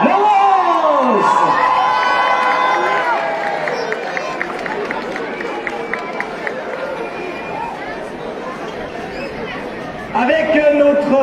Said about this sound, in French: Venez donc applaudir, mesdames, messieurs, notre prince Nicolas et notre princesse Laurence.